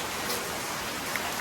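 Rain falling steadily in a monsoon downpour, a dense, even hiss that stays uniform and close throughout, with no voices.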